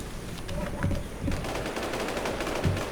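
Rapid automatic gunfire in the video game Infestation, fast bursts of shots rattling continuously over a few seconds at moderate volume.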